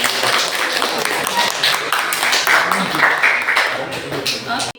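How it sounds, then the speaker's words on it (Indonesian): Students in a classroom clap for a presenting group, a dense burst of close applause that fades out, with a voice speaking through it. "Tepuk tangan untuk kelompok Faris."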